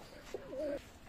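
Pigeons of a Teddy breed, a running breeding pair, give a single soft cooing phrase, low and rounded, close by against a quiet background.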